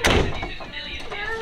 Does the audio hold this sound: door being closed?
yes